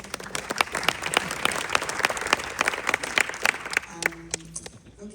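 An audience at a county mayor's public budget presentation breaks into brisk, crackling applause with sharp individual claps, which thins out and fades toward the end.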